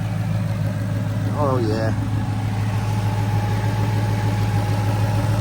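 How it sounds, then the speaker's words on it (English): A car engine idles steadily with a low, even rumble throughout; someone speaks briefly near the start. "This engine sounds very healthy."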